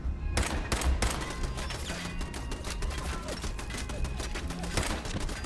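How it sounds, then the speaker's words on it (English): Machine-gun turret in Fallout 4 firing rapid, sustained bursts of gunfire, loud and close, with dense rattling shots packed across the whole stretch and no talk over them. "This turret's a little more powerful than I expected."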